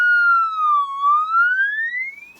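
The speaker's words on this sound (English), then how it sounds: "It's got multiple sounds in it for a Tweetybird." A Tweety Bird tone module for a CB radio plays a clear, loud electronic warbling tone that dips in pitch and then sweeps back up, like a siren-style chirp, alone and up close.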